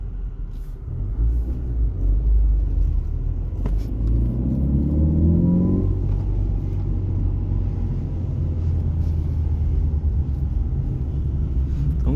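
A Ford Focus fitted with twin throttle bodies accelerates on a street, its engine note rising steadily through the revs in a strong pull before easing off into a lower, steady rumble as the car cruises on.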